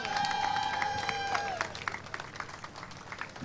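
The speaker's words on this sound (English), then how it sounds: "one shout out and applause for Kate Holland and the councillors of Blackburn" Crowd at a Rohingya justice event in Manchester applauding for a councillor, steady mixed clapping with some cheering, heard alongside a tonal musical or voice sound in the first half before the clapping thins out.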